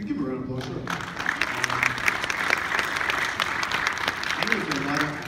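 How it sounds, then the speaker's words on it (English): Audience applause at a community conversation event, steady clapping from many hands filling the room, sustained and fairly close, with speech-like voices faintly mixed in. "you give a round of applause, sure."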